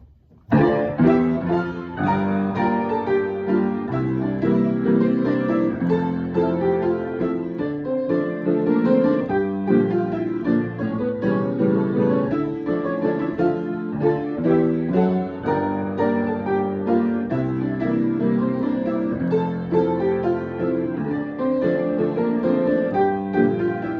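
Solo piano plays a piece in flowing arpeggios over sustained bass chords, notes ringing together under the pedal, steady and moderately loud throughout.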